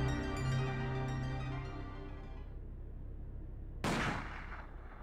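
A single loud gunshot rings out in the video game The Silver Case, a sharp burst with a short decaying tail that cuts in after a sustained tonal music or effect fades away.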